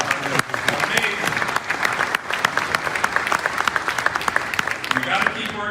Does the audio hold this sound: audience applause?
yes